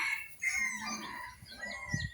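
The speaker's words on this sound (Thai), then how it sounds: "ไก่ขัน" A bantam rooster crowing on a chicken farm in Chanthaburi, Thailand: one drawn-out, quavering cock-a-doodle-doo at moderate distance, followed by soft clucks and faint outdoor noise.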